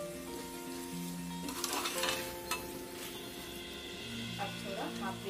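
Steady sizzling and frying of mixed vegetables with spices and dried fenugreek leaves in a pan for curry, with occasional stirring scrapes, a constant crackling hiss under faint background tones.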